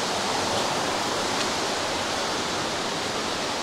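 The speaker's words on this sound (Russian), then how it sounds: "Остается позади шум водопада" Constant roar of the Olginskie waterfalls in eastern Abkhazia, a dense, even rush of falling water close by with no pauses or other sounds.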